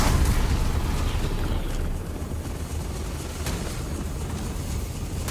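A grenade blast in the sci-fi game Starfield, a loud booming burst with a rumbling tail that settles into sustained roaring noise.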